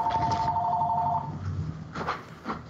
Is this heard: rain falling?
no